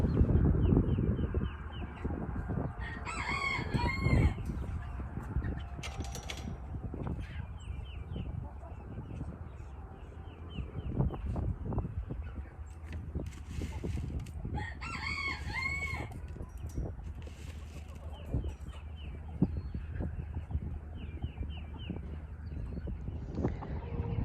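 Chickens kept outdoors with ducks, foraging in a large pen, cluck steadily nearby, with a rooster crowing loudly in two separate bursts over ongoing farmyard background noise.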